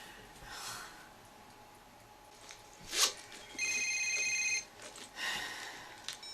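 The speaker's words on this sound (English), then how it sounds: "That's the phone." A telephone rings in a quiet room with two short electronic ring bursts, separated by soft breathing and faint rustling.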